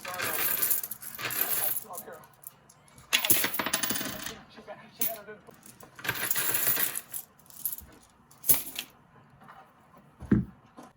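Nickels from a box being coin roll hunted drop and clatter onto a surface in several bursts, with metallic jingling and a few single clinks between them, close and moderately quiet.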